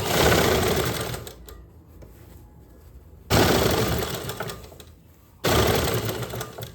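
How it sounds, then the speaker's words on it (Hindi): A sewing machine stitches a suit sleeve in short bursts, three loud rapid runs of needle clatter separated by quieter pauses, close and clear with no talk. "आपको छोटे छोटे स्टेप में सिलाई लगानी है"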